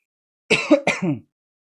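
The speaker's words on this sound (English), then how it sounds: "I'm going to cough." Two quick, harsh coughs in close succession, near and fairly loud, isolated against silence.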